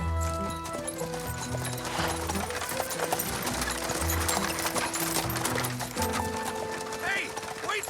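Horse hooves clip-clop at a steady trot, with music and voices over them in an animated Zorro adventure scene.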